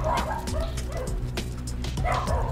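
A dog barks and yips repeatedly in short, close, loud bursts, with whimpering tones between the barks.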